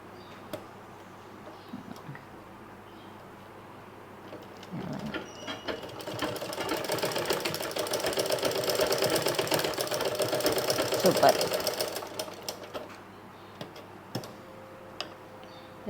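Sewing machine stitching elastic onto narrow pants, a rapid ticking run that starts near five seconds and continues steadily for about seven seconds before stopping, with quieter handling sounds around it.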